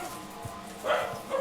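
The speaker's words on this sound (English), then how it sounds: "Oh, that was just the dog." A dog barks twice, short muffled woofs a moment apart, heard at moderate distance in a quiet room.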